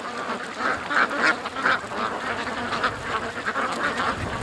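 Ducks quack repeatedly beside a creek, a cluster of close, fairly loud nasal calls over steady outdoor background noise.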